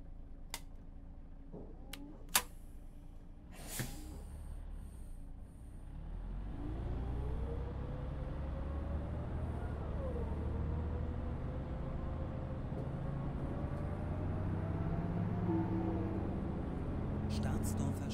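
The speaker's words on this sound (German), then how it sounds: "Ihr hört euch mal den Sound von dem Bus an," A city bus engine from the Omsi 2 bus simulator game rumbles steadily, its pitch rising and falling through the gears, with a few sharp clicks early on and no talking.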